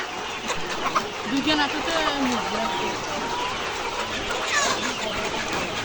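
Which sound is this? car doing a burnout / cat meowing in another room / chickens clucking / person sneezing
chickens clucking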